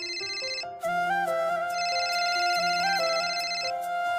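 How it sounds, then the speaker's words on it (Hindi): A bright electronic phone ringtone plays a repeating melodic tune, clear and close, with no voices. "बहू देख तो किसका फोन आ रहा है"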